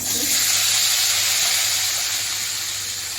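Eggs frying in hot oil in a kadai after potatoes were lifted out, giving a loud, steady sizzle and hiss that runs unbroken and close throughout, with no talking.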